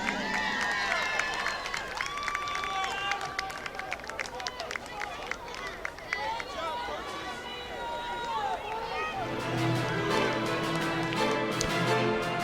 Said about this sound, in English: A big round of applause for the AYC 8th grade National All-Stars